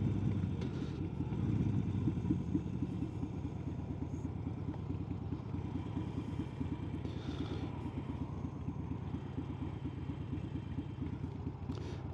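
A Harley-Davidson motorcycle being ridden on the road, its engine a steady, close, rumbling drone that holds throughout with faint clatter and wind, no talking over it.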